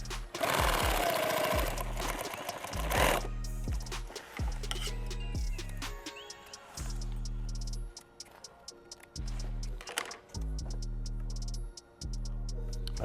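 A sewing machine stitches fabric for a helmet bag, running in steady bursts of rapid mechanical chatter separated by short pauses, close and loud with no talking.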